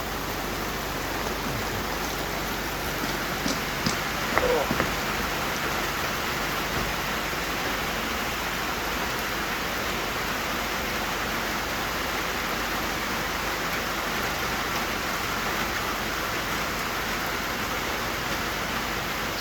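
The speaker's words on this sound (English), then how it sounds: "hear the rain on the tin roof of the deck and the camper" Summer rain at a lake drumming on the tin roof of a deck and a camper, a steady dense hiss of patter holding evenly throughout, with a faint knock early on.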